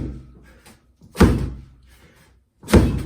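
Medicine ball slams in a home dryland strength circuit: two heavy, loud thuds about one and a half seconds apart, each with a brief rebound tail, preceded by a softer impact.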